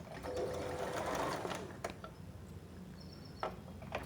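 A sewing machine runs a half-inch seam on a designer blouse, whirring steadily and loudly for about a second and a half, then dropping to a softer hum broken by a few sharp clicks near the end.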